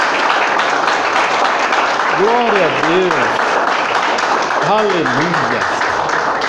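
Sustained applause from a church congregation fills the space, dense and steady throughout, while a voice calls out over the clapping.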